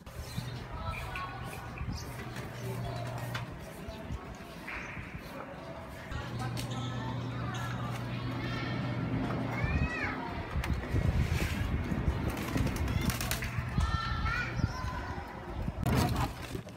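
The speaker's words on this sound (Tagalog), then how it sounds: "dumadaan na ibon" Bird calls and cooing chirps rise over a steady outdoor murmur in Calapan, Mindoro, with voices talking and a low hum running underneath throughout.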